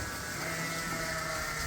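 Sheep on a farm bleat at feeding time, a steady, wavering chorus of calls heard close up over continuous barnyard noise, with no talk.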